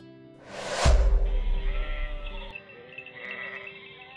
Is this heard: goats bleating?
yes